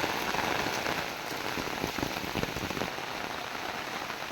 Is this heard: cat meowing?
no